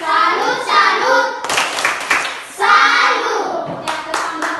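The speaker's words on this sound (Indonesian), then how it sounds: "kita tepuk salut untuk naruh" Group of children and adults chanting a salute cheer in a classroom, with rhythmic clapping bursts between the chanted phrases, loud and close.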